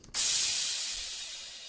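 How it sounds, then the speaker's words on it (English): A single programmed crash cymbal hit in a beat made in FL Studio bursts out and washes into a long, bright, slowly fading shimmer, heard alone. "Finally, I have just a crash."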